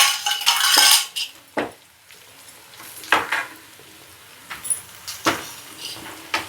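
Spice powders being stirred into fish frying in a pan for a Korameenu fish curry, heard as loud scraping and clattering utensil strokes against the pan, spaced irregularly, over a faint sizzle.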